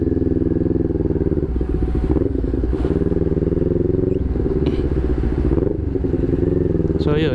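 A 2021 CFMOTO NK400 motorcycle engine runs loud and steady with a dense, continuous rumble and small shifts in pitch as it pulls away, with no break across the whole stretch.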